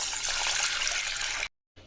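Water pours and splashes over moong dal being rinsed for sambar, a close, steady rush that stops abruptly near the end, followed by a faint resumption.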